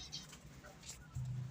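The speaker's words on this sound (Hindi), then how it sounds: "वो खा के लगता ज़्यादा ही कुछ एक्टिव हो गया है कबूतर।" A pigeon kept at home coos low and soft after eating soft food, a short rumbling call near the end, with faint bird movement beforehand.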